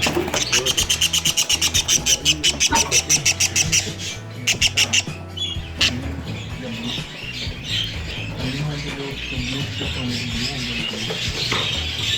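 Budgerigars squawk and chirp in rapid, loud rhythmic bursts for the first five seconds, then settle into fainter chatter beneath people talking over the rest.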